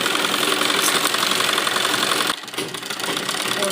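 A sewing machine stitches a heavy suit with lining, running loud and continuous at close range, then briefly slowing before it picks up again.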